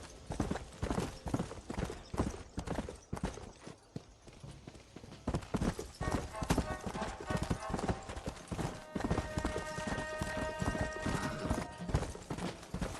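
A horse gallops in Red Dead Redemption, its hooves beating a fast, steady clip-clop that stays close and loud throughout, with a voice speaking at times over it.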